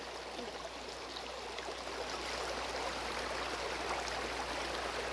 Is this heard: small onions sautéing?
no